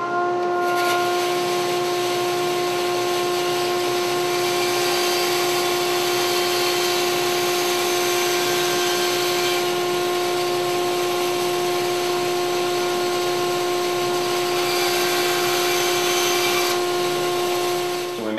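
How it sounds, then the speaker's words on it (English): A woodshop dust collection system runs with a loud, steady, close roar and a sustained tonal whine, holding constant throughout with no break and no voices. "I'm gonna turn on the dust collection."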